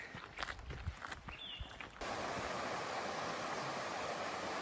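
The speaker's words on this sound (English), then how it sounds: "that's Laurel Creek, and you can hear it. It's right there." Footsteps crunch briefly, then a loud, steady rush of Laurel Creek, Tennessee, takes over and continues unbroken.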